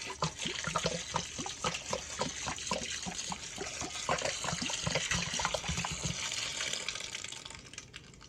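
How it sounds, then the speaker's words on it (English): Water pours and splashes continuously into a pot for brewing honey mead with blueberries, blackberries and raspberries, a close, steady gushing with small sloshing bursts before easing off at the end. "Put 3 gallons of water in it."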